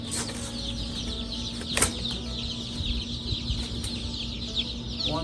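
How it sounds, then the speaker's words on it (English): Pasture-raised egg-laying chickens, a flock of roughly 600 on a small farm, cluck steadily throughout, with a brief burst of wing flapping and scattered calls over a constant background hum. "Got in roughly 600 chickens."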